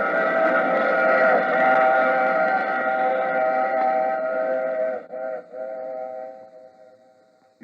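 A steady, loud drone with harmonic tones like a train horn or whistle, holding for several seconds before briefly breaking and fading near the end.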